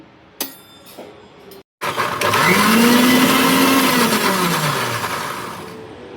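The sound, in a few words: mixer grinder grinding tomatoes for rasam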